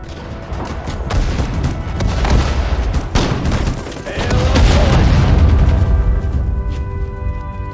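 Dense battle gunfire in the World War II strategy game Sudden Strike 4 on Guadalcanal: continuous rattling rifle and machine-gun bursts with heavy booms, loud and sustained throughout.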